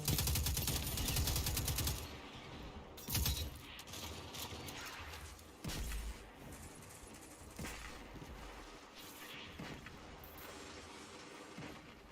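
Gunfire in a Destiny 2 Crucible multiplayer match, with a dense burst of rapid shots at the start, then scattered single sharp shots and mechanical clicks over game background sound, moderately loud, no voices.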